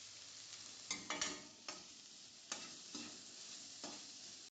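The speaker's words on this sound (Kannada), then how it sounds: "ಇನ್ನೀಗ ಇದನ್ನು ಮೀಡಿಯಮ್ ಉರಿಯಲ್ಲಿ ಫ್ರೈ ಮಾಡಿಕೊಳ್ಳಬೇಕು." A side dish fries over a medium flame, soft steady sizzling punctuated by several distinct scraping strokes of a spoon stirring in the pan, quiet and close.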